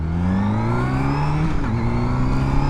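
A rebuilt, previously wrecked Honda CBR600RR on its first test ride, the engine winding up loudly through the revs, dropping briefly at a gear change, then climbing again in a steady rising whine.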